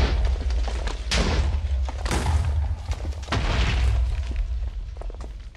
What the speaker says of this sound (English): let's do another explosion